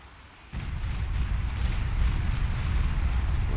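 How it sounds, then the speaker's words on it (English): After a short lull, a Stuka dive-bomber barrage in a WWII game hits with a sudden onset of heavy explosions that merge into a loud, sustained rumbling roar until the end. "Yeah, another Stuka barrage going in"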